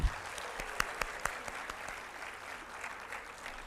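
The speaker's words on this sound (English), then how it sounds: "Let's give her a huge round of applause." An indoor audience gives a steady round of applause welcoming a guest speaker, brand strategist and image consultant, to a grooming talk, and the clapping is moderately distant and continuous throughout.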